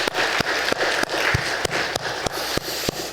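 A church congregation applauding at a Sunday service, a steady wash of clapping with a few sharper, louder claps standing out at irregular moments, heard alone without talk.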